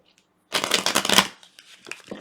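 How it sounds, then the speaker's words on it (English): A deck of tarot-style cards is shuffled in one quick, close riffle lasting under a second, followed by a few faint card taps in a quiet room. "let us shuffle the cards"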